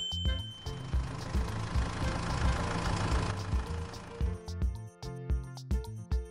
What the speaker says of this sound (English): Here comes a tractor.